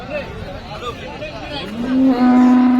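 A dairy cow gives a loud, sustained moo in the second half, rising out of background chatter and farm noise, close by, at a cattle market in Sangola.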